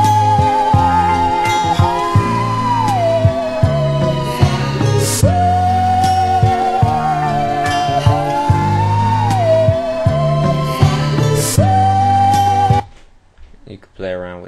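A chopped two-bar sample loops back in Fruity Loops, a steady musical pattern with a sustained melodic line and regular beat, running loud and continuous before cutting off abruptly near the end.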